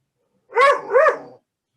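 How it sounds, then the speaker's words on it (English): A dog gives two quick, close barks in a row, with a whiny, slightly yelping quality, over near silence. "The dog's trying to tell you it has a pagan heart."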